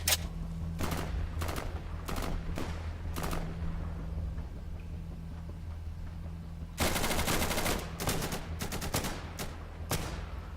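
Bursts of rifle fire from an M40A1 sniper rifle in the shooter game Insurgency, a run of sharp shots followed by a denser, louder volley, with no talk.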